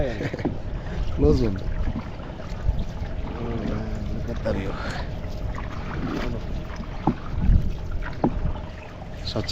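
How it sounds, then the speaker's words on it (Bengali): A boat being rowed across a Bangladeshi wetland (beel), with soft oar strokes and water splashes under steady wind noise; people talk throughout at close range. "নৌকা বাইতেছে"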